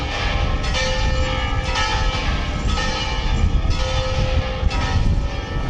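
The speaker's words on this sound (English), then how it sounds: "So obviously they're all going to chime at the same time." Several church bells of Romanesque churches chiming together in Zamora, a dense loud ringing overlapping steadily against strong wind noise.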